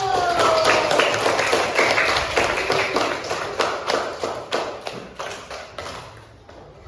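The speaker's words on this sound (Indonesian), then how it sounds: "Tepuk tangan dulu." Schoolchildren in an elementary classroom at SD N 1 Arisan Buntal clap their hands, a string of distinct, evenly spaced claps that gradually thin out and fade, with faint voices in the background.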